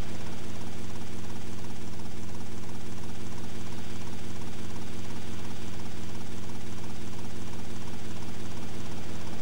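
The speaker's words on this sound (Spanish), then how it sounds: "vamos a tener este helicóptero para poder salir de ahí" A helicopter in GTA Vice City on PS2 drones close and loud, its rotor and engine making a steady, unbroken whir with a rapid chopping pulse from start to finish.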